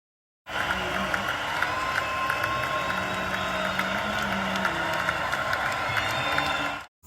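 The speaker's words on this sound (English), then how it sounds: "Clap it up for Miss Halle Bailey" A large audience claps and cheers for Halle Bailey, a dense, steady wash of applause and whoops sustained for about six seconds at an even, fairly loud level before cutting off.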